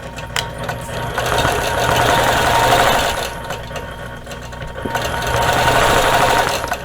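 A sewing machine stitches in the ditch on a quilt in a cactus basket wall hanging, running in two steady bursts of rapid mechanical whirring with a brief slowdown between them.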